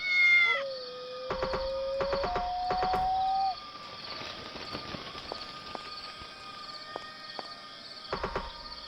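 A cat in an island adventure video game meows, with a loud synthetic meow at the start followed by clicky footstep and interface sounds and a sustained tone, all without talk.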